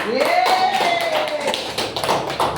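Students in a classroom clap in a short burst of scattered, uneven hand claps, close and fairly loud, with a voice sounding over the start.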